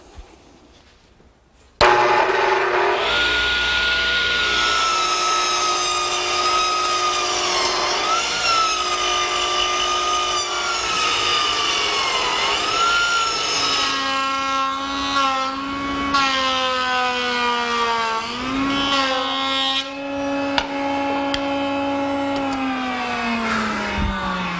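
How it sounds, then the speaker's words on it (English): A 12-inch radial arm saw spins up abruptly and cuts a bevel through pressure-treated 4x6 timber, a loud sustained whining tone that wavers and bogs as the blade works through the wood, alone without talk. "I'm going to use my 12-inch radial arm saw, which allows me to make it in one pass."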